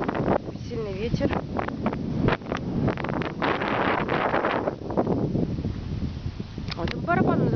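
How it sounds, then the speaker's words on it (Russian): Strong gusty wind buffeting the microphone on a street of apartment blocks damaged by attacks in Donetsk, a constant loud rumbling roar, with a person speaking briefly under it. "Сильный ветер."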